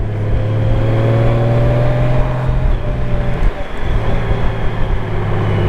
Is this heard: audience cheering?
no